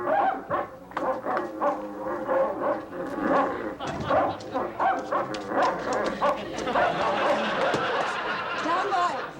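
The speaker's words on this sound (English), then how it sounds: "Nice dogs. Oh, they really frightened us." Several dogs bark and yip excitedly, mixed with people talking and laughing nearby.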